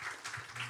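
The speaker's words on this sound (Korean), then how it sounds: "하나님께 영광의 박수 올려드리겠습니다." A church congregation applauds during a worship service, a dense, steady wash of many hands clapping at once, moderately loud and without speech over it.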